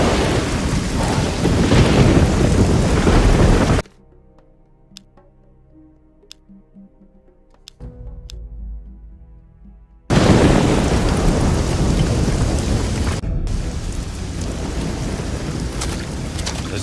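Heavy rain pours with rolling thunder in the Risen 2: Dark Waters game as a ship comes in through a storm. A loud, dense downpour cuts to near silence with faint ticks, then returns just as heavy.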